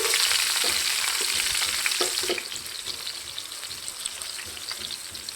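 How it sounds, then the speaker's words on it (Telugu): Onions frying in a pan with ground spice powder make a loud, dense, crackling sizzle close up. It eases slightly partway through, with soft stirring scrapes underneath. "ఇది కొంచెం ఆనియన్ కొంచెం బ్రౌన్ కలర్ వచ్చే వరకు వేయించేస్తున్నాం"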